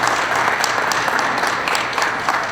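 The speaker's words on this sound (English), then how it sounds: "How about a round of applause for" Steady applause from an audience thanking musicians at a St Patrick's Day Parade press conference, dense clapping at an even level throughout with no break.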